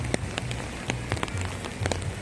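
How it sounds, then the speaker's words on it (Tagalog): Rain falling steadily with a continuous hiss, individual drops tapping close by at irregular intervals. "Hii, lumakas yung ulan."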